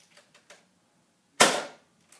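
A Mega Thunderbow toy bow fires at a box: one sharp, loud snap with a short decaying release, preceded by a few faint clicks of handling and followed by a small tap.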